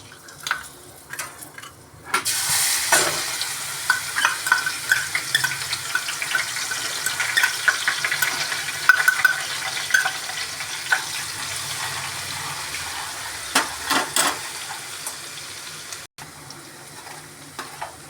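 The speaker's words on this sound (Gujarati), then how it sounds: "ત્યારબાદ આપણે નાખશું એની અંદર આદુ લસણની પેસ્ટ" Ginger garlic paste frying in a pan for a restaurant-style Punjabi gravy, a bright sizzle that starts abruptly and continues with irregular scraping taps of a spoon, close and with no speech.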